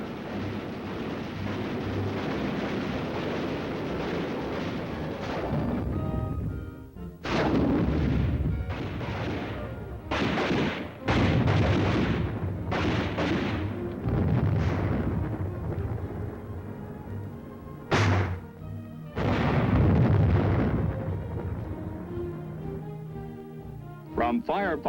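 Army artillery firepower demonstration: heavy booms and rumbling blasts go off repeatedly, some sharp and loud, others distant rolls, with someone narrating over the barrage throughout.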